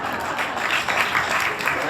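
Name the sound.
audience round of applause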